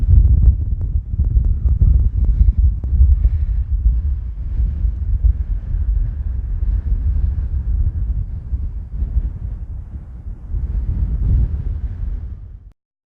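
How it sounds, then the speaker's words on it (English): Steady wind buffets the microphone across an open farm field, a continuous low rumbling roar with gusts rising and falling throughout and strengthening again near the end, no other sounds standing out. "wind is getting up now"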